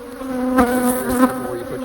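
Honeybees at an opened beehive showing queen cells, a close, loud, continuous droning buzz with steady pitch, swelling slightly as bees pass near.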